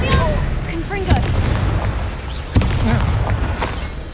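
A Confringo blasting spell bursts in the video game Hogwarts Legacy, with sharp booming impacts near 1.1, 2.6 and 3.6 seconds over a busy game mix with voices.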